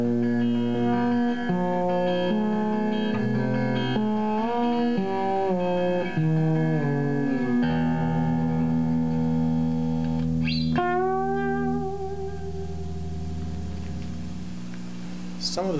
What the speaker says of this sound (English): Another thing that we do is play fretless guitars.